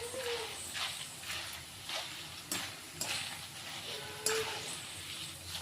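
Cornflakes crackle as they fry in hot oil for a homemade chivda, a steady sizzle with faint scattered pops and brief louder bursts. The crackling stays moderately quiet and continuous throughout, with no talk over it.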